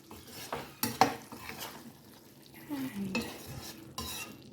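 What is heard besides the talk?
stirring moong and pointed gourd in a pan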